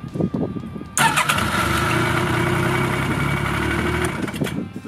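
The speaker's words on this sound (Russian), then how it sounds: "И сейчас посмотрим, как он заводится." A Yamaha Viking Professional snowmobile engine is started with a homemade starter built from motorcycle parts, then catches and runs loud and steady nearby for about three seconds before cutting off.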